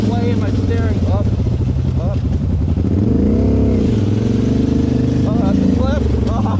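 A small engine on a mini rock crawler project driving in a slightly high gear, droning and rising and falling in pitch with bursts of revving, as someone talks over it.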